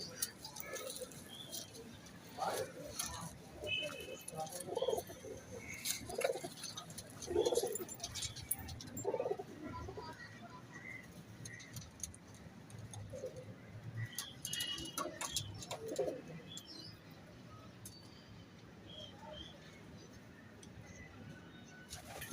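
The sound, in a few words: teddy flying pigeons cooing in breeding setup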